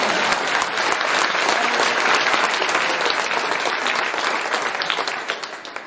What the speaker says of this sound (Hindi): इस प्रकार ताली बजाते समय भी सोच करके